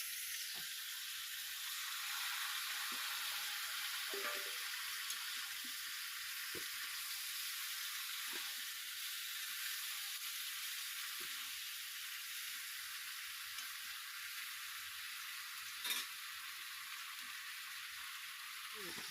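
Vegetables frying in a pan for a mustard fish curry, a faint continuous sizzle with occasional soft stirring taps and knocks, quiet and steady throughout.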